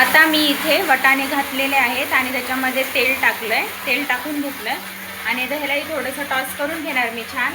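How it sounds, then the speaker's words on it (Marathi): A kitchen mixer grinder whirs steadily in the background while someone talks continuously over oil and green peas being tossed in a pan. "थोडासा मागे मिक्सरचा आवाज येत असेल"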